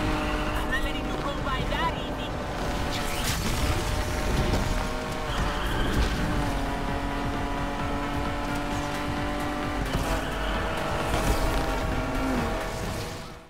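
Racing cars in the video game Need for Speed Unbound roar steadily with tire squeals and harsh bursts, over a constant, loud bed of engine drone and tonal game sound.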